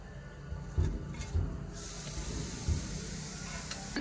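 A gas stove burner is lit beneath a frying pan, and a steady airy hiss starts partway through and keeps going. A few dull low knocks sound near the start.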